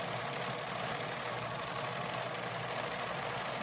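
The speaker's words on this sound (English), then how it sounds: "now we're sewing over that" A sewing machine runs continuously while stitching fabric, giving a steady, dense mechanical whir with rapid vibration and no breaks.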